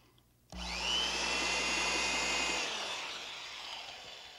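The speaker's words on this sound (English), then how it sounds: "An electric drill." An electric drill starts abruptly and whines steadily at high speed for about two seconds, then keeps grinding as it bores into wood, loud and close.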